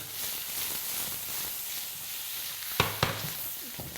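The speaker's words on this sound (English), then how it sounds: "in with some butter, and that's going to give them a lovely nutty flavour, and it's going to help with the browning" Shallots frying in butter in a pan give off a steady broadband sizzle, with a couple of sharp utensil clinks near the end.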